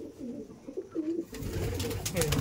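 Pigeons coo in a rural village loft near Basirhat, several birds overlapping in soft, repeated throaty calls, growing fuller and busier in the second half against a steady background.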